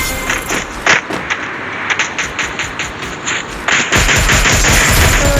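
Rapid gunfire from a Free Fire mobile battle-royale match, sharp shots crackling in bursts through the first half, then a dense, loud continuous barrage near the end.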